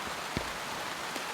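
Heavy rain pelts down on a riverside campsite with a tent, a steady, faint wash of broadband hiss with a couple of brief, slightly louder drops or spatters and no talking.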